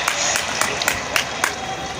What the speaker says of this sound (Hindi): एक बार ज़ोरदार तालियाँ इस पूरे ख़ानदान के लिए।